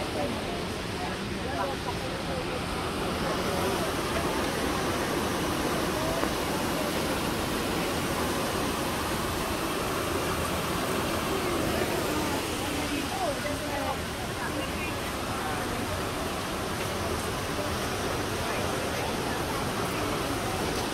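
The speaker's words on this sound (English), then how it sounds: "You can hear the waterfall stream going through." A waterfall-fed stream rushes beneath a bridge at Watkins Glen State Park, a broad steady roar of flowing water lasting the whole time, with faint voices mixed in.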